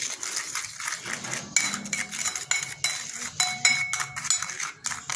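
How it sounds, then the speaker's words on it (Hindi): A spoon stirring milk into a pigeon feed paste in a metal bowl, giving rapid, continuous clinks and scrapes close up with no talk. "तो ये दूध इसमें जो है ना डाल देते हैं। इसको मिक्स करते हैं।"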